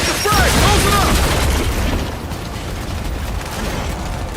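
Gunfire and explosions in an Xbox Series X video game, a loud burst of rapid mechanical shots and booms at the start easing into lower rumbling combat noise, with voices calling out over it.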